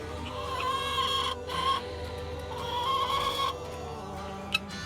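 Young chickens and newly added guinea fowl cluck and chatter softly at close range in a backyard coop, a steady overlapping murmur of calls with one brief sharper peep near the end.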